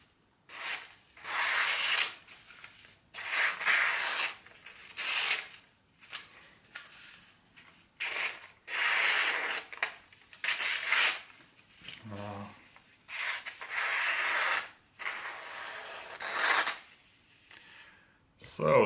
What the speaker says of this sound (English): Let's see if we can do some wavy patterns when slicing this piece here.